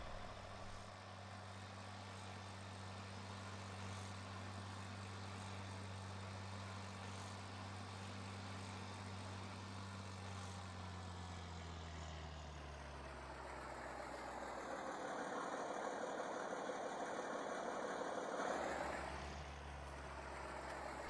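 A John Deere 4955 tractor engine running steadily in high gear, a low droning rumble that later shifts pitch as the engine note changes, heard without talk.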